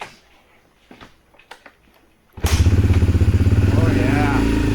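A Yamaha TTR-125L dirt bike engine starts after a few soft clunks and handling noises, then settles into a loud, steady, close-up putter.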